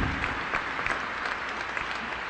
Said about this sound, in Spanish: Voltense para allá para que reciban este aplauso.